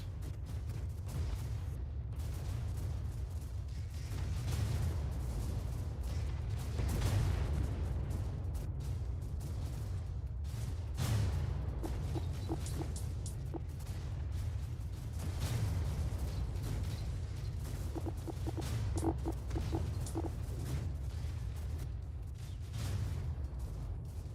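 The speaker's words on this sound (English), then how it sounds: "The torpedo ships are starting to take their shots." Torpedo ships open fire in the space RTS Annihilate the Space, with muffled booms and bursts rolling over a constant low rumble and scattered sharper pops across the span.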